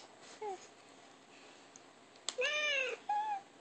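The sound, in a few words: cat meowing from toy laptop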